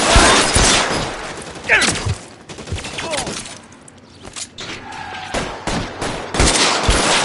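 Gunfire in the video game L.A. Noire: loud rapid bursts of shots and sharp cracks, dense at first and continuing in volleys with short gaps, with a voice briefly heard between them.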